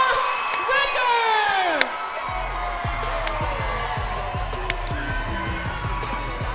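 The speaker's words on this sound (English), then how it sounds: "The crowd is going crazy" Arena crowd at a women's MMA fight roars and cheers loudly after the decision, with whoops and shouts throughout, an announcer's amplified voice ringing over the crowd, and a thudding rhythmic pounding underneath.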